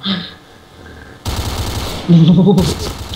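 Rapid automatic fire from an HK417 rifle in a video game, loud bursts of gunshots after a quieter opening, with a second burst near the end and no talk over it.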